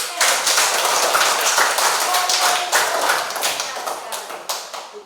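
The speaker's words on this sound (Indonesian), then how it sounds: "Tepuk tangan." A classroom of students clapping hands, a quick burst of scattered claps that is loud at first and tapers off toward the end, with some voices mixed in.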